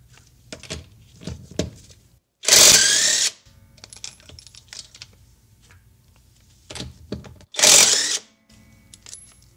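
An Alloyman cordless brushless impact wrench loosening a nut, heard as two short, loud, dense hammering bursts a few seconds apart, separated by quieter handling clatter.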